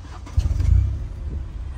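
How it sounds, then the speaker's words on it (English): A car engine cranks and catches, a short low rumble surging up and then settling into a steady idle, close by and alone. "First, you got to start your engine."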